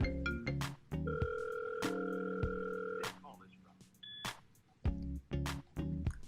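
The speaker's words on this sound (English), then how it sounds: "Press the green phone icon and the call will dial." Outbound call being placed from a softphone dialer, with a series of close electronic beeps and tones in uneven bursts, some long sustained tones, then short blips near the end.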